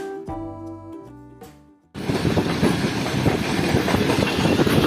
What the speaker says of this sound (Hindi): तो दोस्तों पूरे 7:30 बजे ट्रेन जो है हमारी एंटर हो रही है भावलपुर रेलवे स्टेशन पर